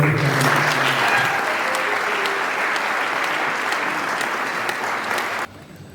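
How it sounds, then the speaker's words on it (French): Sustained audience applause at a cardinal's visit to a Catholic university fills the room loudly and evenly for over five seconds, then cuts off sharply near the end, with a few faint voices mixed into the crowd. "une fois de plus, on peut applaudir pour"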